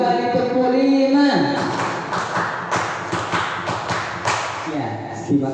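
A group claps together in a quick rhythmic pattern of sharp, loud claps in a classroom-style session, right after a short spoken lead-in.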